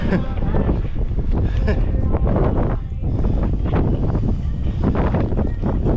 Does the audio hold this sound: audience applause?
no